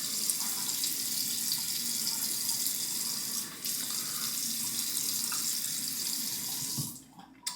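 Warm water runs steadily from a tap into a sink before a wet shave, a close, even splashing stream that cuts off near the end.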